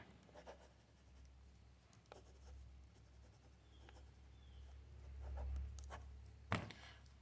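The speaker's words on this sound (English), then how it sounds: "If I bring a piece of paper in here, the pen actually works fairly decently." A tactical pen scratches across paper in a faint, intermittent series of soft strokes over a low hum, with a sharper tap near the end and no voices.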